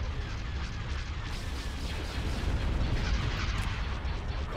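Laser cannons fire in the space battle game Star Wars: Empire at War as a dense, continuous roar of booming blasts that swells slightly toward the end, with no voices.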